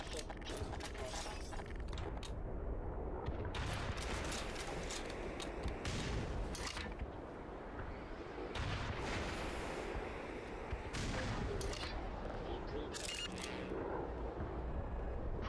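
Rocket explosions and weapon fire in the first-person shooter Black Mesa pile up as dense, continuous booms, crackles and mechanical clatter, loud and unbroken, with faint talk buried under the noise.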